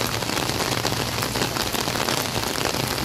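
Steady, dense rain pours down at the Pasig River Esplanade, a loud continuous hiss of drops striking hard surfaces close by, with no voices.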